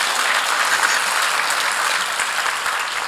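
A crowd at a UN World Toilet Day event applauds, a steady wash of many hands clapping together that holds dense and even throughout, with no voices rising above it.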